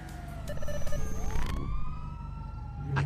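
A police car siren in the GTA roleplay video game wails and sweeps upward over a low engine rumble, fairly loud at first and then steady, ending with a brief thump.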